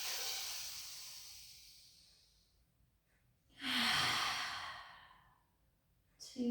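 Slow, soft exhaled breaths during a pilates rehab session, a long fading sigh followed by a second breath out, close and alone with quiet pauses between.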